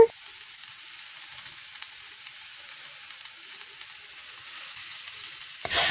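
Continuous hissing sizzle from a hot frying pan with faint scraping of noodles being stirred underneath, steady throughout and ending with a louder clatter.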